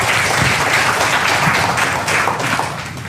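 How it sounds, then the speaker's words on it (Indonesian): Dense, steady audience applause at a product education session, loud continuous clapping filling the room for several seconds. "Tepuk tangan dulu buat kita semua yang pengen muda-muda ya"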